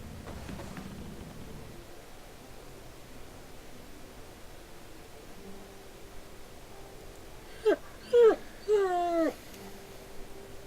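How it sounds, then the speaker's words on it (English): A black hound in the video game Pillars of Eternity gives a few short, rising whines close by, bunched together near the end over a faint, quiet background hiss. "It looks up when you approach and whines a low note, tail wagging slightly."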